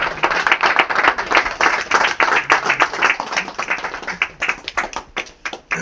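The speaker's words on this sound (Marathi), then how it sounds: "खुशबूताईसाठी सर्वांनी एक वेळ टाळ्या वाजवा जोरदार आहे" An audience at a political event claps for Khushbutai: steady, fairly loud rhythmic applause from many hands that thins out and fades near the end.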